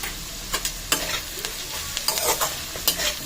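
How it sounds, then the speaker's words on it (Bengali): Goat fat for ghugni sizzles and fries in a pan while it is stirred. The steady crackle is broken by louder scraping and stirring strokes, close up and with no talking. "চর্বিটা দিয়ে আমি আবারও ভালো করে ভাজবো।"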